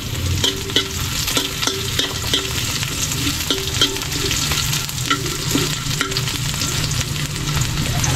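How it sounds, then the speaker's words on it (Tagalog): Garlic and onion fry in a pan while being stirred, a steady close sizzle with repeated scraping strokes of the spoon throughout, no voices. "Lagyan na natin ang ating sibuyas para sabay silang magluto ng bawang natin natin."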